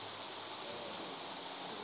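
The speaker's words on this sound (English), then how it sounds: "So let us say goodbye to kurşunlu waterfall." Kurşunlu waterfall in Antalya, Turkey, pours in a constant, broadband rushing roar of falling water, steady and unbroken for the whole stretch with no voices.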